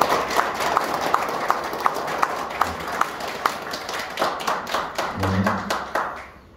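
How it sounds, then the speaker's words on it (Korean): A seated audience at a local candidate's residents' meeting gives sustained, dense hand clapping that stays steady for several seconds before tapering slightly, with a faint voice briefly under it. "박수 부탁드립니다."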